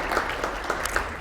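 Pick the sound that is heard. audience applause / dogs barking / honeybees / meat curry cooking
audience applause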